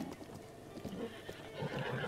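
Video-game horse whinnies and snorts near a stable, with hoof clip-clops mixed into a moderately loud, busy stretch of sound.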